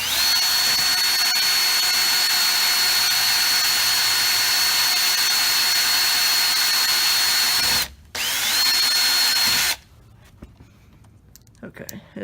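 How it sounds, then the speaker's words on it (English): A power drill boring a pilot hole while fitting LED switchback fog lights on a Nissan 350Z, a loud continuous high whine that briefly drops out, resumes, then stops, leaving quiet background. "I'm just gonna drill a pilot hole with this one."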